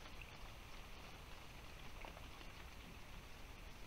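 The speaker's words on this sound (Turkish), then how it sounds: "Yağmur yağıyor zaten." Steady rain falls at a lakeside carp-fishing spot, a dense, even hiss of drops on water and ground that stays constant throughout with no talking.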